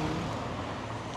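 Street traffic in Lisbon heard while waiting at a red pedestrian light, a steady broadband roar of passing cars close by.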